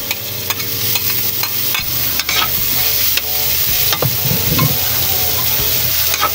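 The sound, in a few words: sautéing onion and tomato in a pan for pinakbet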